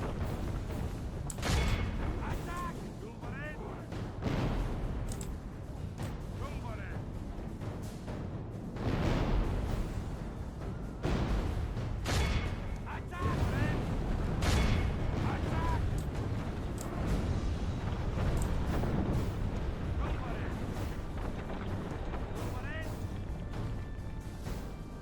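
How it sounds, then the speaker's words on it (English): Cannons fire in a large battle in Medieval 2: Total War Britannia, heavy booming blasts repeating irregularly over a constant rumble of battle noise, with occasional talk mixed in. "these cannons are incredible"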